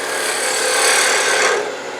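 A tool cuts a concave hollow into the inside of a chucked wood scrap spinning on a lathe, producing a close, loud, continuous rasping scrape that swells and then eases off, with no talk.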